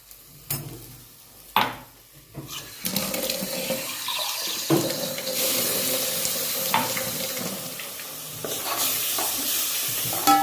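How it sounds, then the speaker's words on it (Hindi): Water pours into a pan of spicy goat tripe curry on the stove, a steady rushing splash that swells after a few sharp clatters and carries on alone, with sizzling beneath. "थोड़ा पानी डाल देते,"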